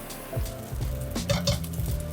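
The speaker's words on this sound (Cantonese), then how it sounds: "再放啲擎乾水嘅蝦米入去爆香" Soaked, drained dried shrimp sizzling in hot oil in a wok, a close steady crackle with a few brief clinks of utensil against metal.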